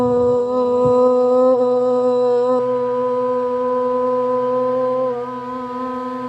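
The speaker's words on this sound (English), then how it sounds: "Uniting our voices, energies, and souls in the sound of Om" A group of voices chanting a long, sustained Om in unison at the close of an outdoor yoga class, the tone held steady for several seconds before softening toward the end.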